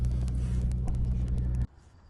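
A custom DIY valved exhaust on an Acura TLX rumbles at a loud, steady idle close by, then drops off abruptly to near quiet as the valve is shut.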